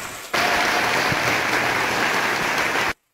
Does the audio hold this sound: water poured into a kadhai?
no